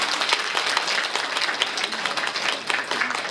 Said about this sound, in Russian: Давайте еще одно хлопок